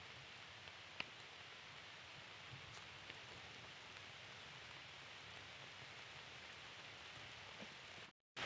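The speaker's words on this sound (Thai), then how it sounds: "ฝนก็ตกแห้งแห้งเด้อจ้ะ" Rain falling in a forest in America, a steady, even hiss of drops on leaves with a few faint nearby taps, continuous and moderately quiet until it cuts off briefly at the end.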